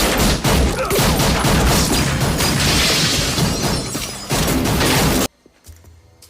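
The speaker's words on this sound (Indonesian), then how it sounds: "Mereka pun beradu tembak di sana." A film gunfight erupts in a continuous loud barrage of gunshots mixed with shattering glass and crashes, ending abruptly in near silence.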